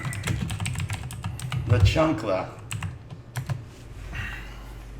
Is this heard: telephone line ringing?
no